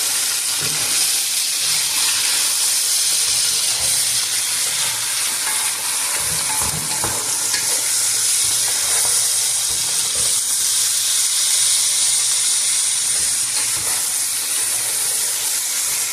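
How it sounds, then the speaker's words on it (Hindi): Desi chicken and onions sizzle and hiss steadily in a hot pan while being stirred, with occasional scraping and clanks from the spoon throughout. "अच्छी तरह मिक्स करें प्याज और इसको, तो ये चिकन जो है ये रोस्ट हो जाएगा।"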